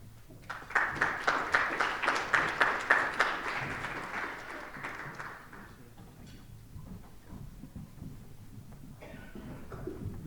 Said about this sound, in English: There wasn't too loud an applause